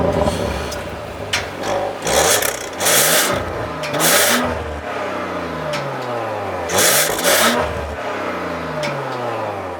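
A 2018 Audi RS5 engine cranks and fires up, then settles into a loud, rumbling idle with a few sharp revs flaring through the exhaust, close by and with no talk.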